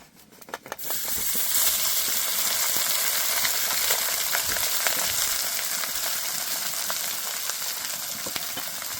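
Rice tipped into hot ghee with cardamom and cinnamon for a Bengali-style fried rice, starting with a few clattering drops, then a loud, steady sizzle and hiss that carries on, close up.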